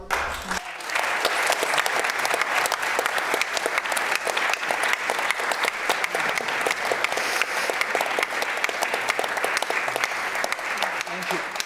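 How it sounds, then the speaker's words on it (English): An audience gives warm, sustained applause after a music talk event, loud and even throughout with no break. "I want everybody to give warm applause"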